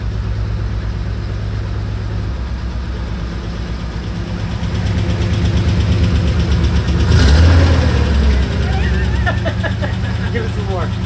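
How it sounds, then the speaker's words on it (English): An 1985 Nissan 300ZX engine idles with a steady low rumble, then is revved in a short swell around the middle before settling back to idle, with people talking over it. "let's go rev it up a little bit"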